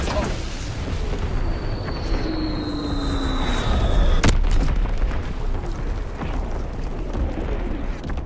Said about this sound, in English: Firing primary battery. Target position confirmed. Dropping split six bombs.